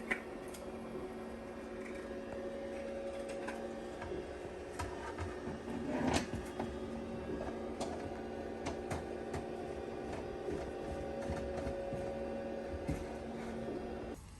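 A 3D printer hums steadily with faint ticking and whirring while printing a cover part for a pop-up camper, a low continuous mechanical drone with occasional small clicks and no voices.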